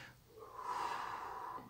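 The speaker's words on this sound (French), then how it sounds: "Et à chaque respiration qu'on expire, on se sent un peu plus relaxé." A single slow, soft exhale during a guided meditation, close and faint, in otherwise quiet surroundings.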